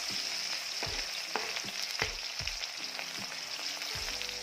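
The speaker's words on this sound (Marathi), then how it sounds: "ते लसणाचा छान रंग बदलेपर्यंत तो असा परतून घ्यायचा" Garlic fries in well-heated oil for a dill and capsicum vegetable dish, making a steady bright sizzle punctuated by a series of dull knocks as it is turned and stirred in the pan.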